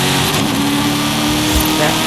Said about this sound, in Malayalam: കിടില സൗണ്ടാണ് വണ്ടി ഷിഫ്റ്റ് ആക്കുമ്പോഴത്തേക്ക്, നമ്മൾ ഗിയർ ഷിഫ്റ്റ് ചെയ്യുമ്പോഴത്തേക്ക് കണ്ടാ.